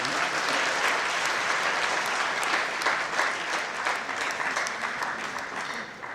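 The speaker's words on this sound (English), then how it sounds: "Please help me clap for them." A large audience at a national student entrepreneurship summit claps steadily for award winners, a dense, continuous applause that holds throughout and tapers slightly at the end.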